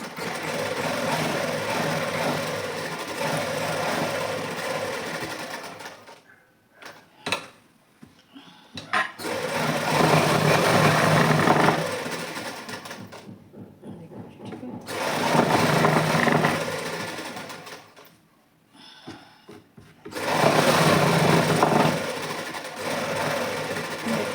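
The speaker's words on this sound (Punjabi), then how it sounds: "ਹੁਣ ਆਪਾਂ ਦੂਜੇ ਪਾਸੇ ਸਲਾਈ ਮਾਰਾਂਗੇ" Sewing machine stitching the lining of a suit, running in three long bursts with short pauses between, close and steady.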